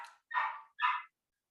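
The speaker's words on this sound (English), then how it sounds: "now I've got dogs outside my house barking." Dogs outside a house bark three times in quick succession, sharp and fairly close, then stop abruptly with no talking.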